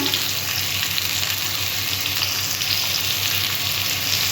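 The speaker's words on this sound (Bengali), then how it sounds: "তেল গরম হয়ে গেছে, আমি আলুগুলো দিয়ে দিলাম। আলুটা একটু লাল লাল করে ভেজে নেব" Potatoes fry in hot oil with a loud, continuous, even sizzle and crackle that holds steady from start to finish, with no talking.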